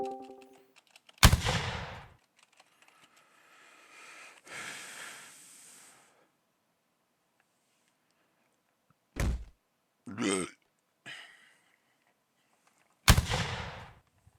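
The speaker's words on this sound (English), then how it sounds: "can we not practice our muskets when someone's doing their exam, please?" A musket shot in a video game rings out as a sharp, loud crack with a short decaying tail near the start. A second similar crack follows near the end, with scattered softer thumps and rustles in between.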